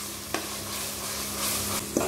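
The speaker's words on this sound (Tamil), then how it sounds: "இஞ்சி பூண்டு பேஸ்ட் சேர்த்து பச்சை வாசம் போகிற அளவுக்கு நல்லா வதக்கிக்கோங்க" Ginger garlic paste sautéing and being stirred in a hot pan for chicken biryani, a steady close sizzle broken by a couple of scraping stir strokes, with no talking.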